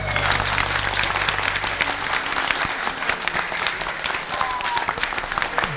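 A TV singing-competition audience gives loud, sustained applause for a Nepali folk singer, dense clapping from many hands close and continuous throughout.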